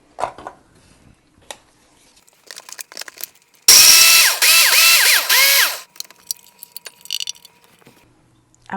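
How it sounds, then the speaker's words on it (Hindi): A food processor grinds cookies into crumbs for a no-bake cheesecake crust, a loud steady whirring burst of about two seconds between quieter clicks and handling noises, with no talking. "सबसे पहले हम अपने फूड प्रोसेसर में कुकीज़ डालेंगे और उनको"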